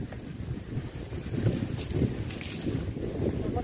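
Strong wind gusting outdoors at an open-air cooking spot where egg biryani is being made, a steady low rumbling roar of buffeting against the microphone with swelling gusts throughout.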